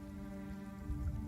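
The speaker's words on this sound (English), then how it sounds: "That's like, a steady light rain. Not a drizzle, but not downpour." Steady light rain patters continuously and evenly, with dense small drops and a soft low rumble underneath. It swells slightly toward the end.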